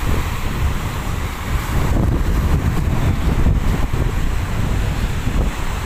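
Strong wind roars across the open shoreline of Manila Bay, with rough waves surging underneath in a steady, loud wash and wind buffeting the microphone throughout, with no voices.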